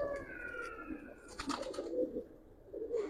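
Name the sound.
pigeon cooing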